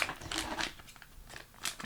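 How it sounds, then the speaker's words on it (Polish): Scissors snip at plastic toy packaging for a K'nex figure, a few quick close crisp cuts with crinkling between them. "chyba trzeba brać nożyczki"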